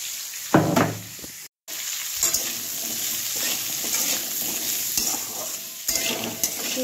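Potato pieces with turmeric and salt frying in hot oil in a pan on a gas stove, a steady loud sizzle with stirring scrapes, briefly cut off near the start, then continuing close and unbroken.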